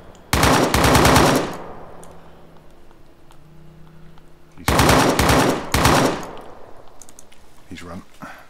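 Automatic weapons fire in ArmA 3: two loud, close bursts of rapid shots, each about a second long, separated by quieter ambient noise, with a brief voice near the end.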